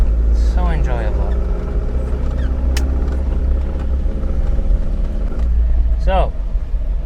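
On-board an Alfa Romeo 1750 GTV on the move, its engine a loud steady low drone with road rumble throughout, while someone talks over it in the cabin.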